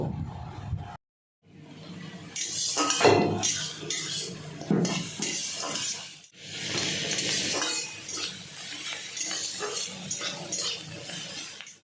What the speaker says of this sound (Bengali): চিংড়ি মাছগুলো দিয়ে এইভাবে নেড়ে চেড়ে ভেজে নেব